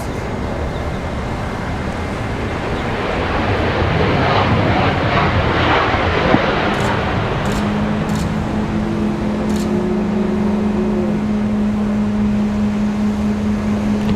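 A Contour Airlines plane arriving at Washington Dulles Airport gives a steady broadband jet roar that swells slightly midway, then a low engine drone lingers, heard at moderate distance amid outdoor background noise.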